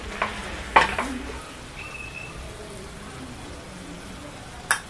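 Potatoes and spinach being stirred in a pan over a low flame for aloo palak, with a few sharp scrapes and knocks of the spoon against the pan over a soft, steady sizzle.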